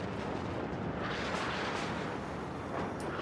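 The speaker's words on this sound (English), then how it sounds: "Artillery support going over to help Justin out." Artillery fire in the strategy game WARNO, a steady, dense rumble of distant shelling and explosions that rolls on without pause, with no talk over it.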